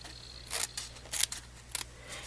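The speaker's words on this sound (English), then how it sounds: "I'm just going to go in with my scissors" Scissors snip through paper being cut out for a snow shaker card, three or four quick crisp cuts close by with a faint steady hum underneath and no talking.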